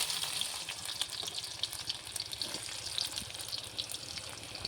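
Dry red chili and chopped onion hit hot mustard oil in a pan and fry with a loud, continuous crackling sizzle, close and alone.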